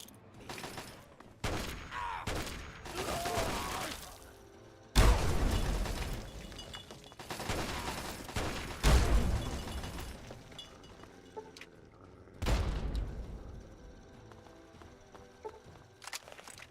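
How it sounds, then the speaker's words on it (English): Minigun fire in the video game Fallout 3: several loud, crackling bursts of rapid gunfire separated by short pauses, sounding close and harsh. "Was that a minigun or a flamer? A minigun."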